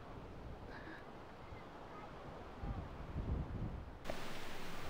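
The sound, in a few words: strong wind at beach campsite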